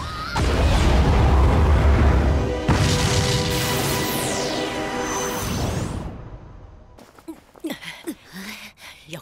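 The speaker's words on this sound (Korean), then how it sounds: "빛과 어둠이 폭발했어!" Explosion effect from a battle in the Korean animated series Bbasha Mecard S: a loud, dense, roaring burst fills the first six seconds, then drops away to quieter clattering and faint voices.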